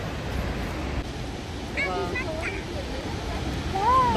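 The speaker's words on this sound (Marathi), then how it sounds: "हा कोसळणारा स्नो कॉलमी फॉल्स" Snoqualmie Falls waterfall pours down with a steady broad roar of crashing, spraying water in the distance, while people talk nearby over it.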